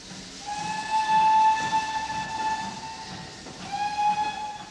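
A steam train whistle sounds in a long sustained tone over a rumbling hiss of the train running on rails, then cuts briefly and resumes near the end.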